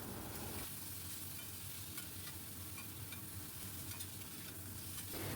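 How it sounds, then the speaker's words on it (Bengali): Mixed vegetables frying with turmeric in a pan for a bitter gourd chorchori, a quiet steady sizzle with soft stirring scrapes throughout; no talking. "বেশ ভালো মতো ভাজা ভাজা হয়ে গেছে সবজিগুলো।"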